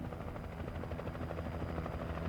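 Helicopter hovering in the Alan Wake video game, a steady dense rotor drone with churning low thump that holds continuously and fairly loud, with no voice over it.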